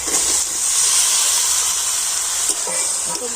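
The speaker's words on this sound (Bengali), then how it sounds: "তো মশলার সাথে আলুটা আমি একবার এইভাবে কষে নেব" Boiled potato pieces sizzle and hiss steadily as they are fried with spices for an aloo puri filling, a loud, continuous frying sound with a few faint stirring knocks and no talking.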